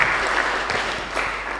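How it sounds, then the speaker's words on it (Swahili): Dense applause from a church congregation during a Kikuyu service fills the whole stretch, steady and fairly loud with no break. "Tumpigie makofi."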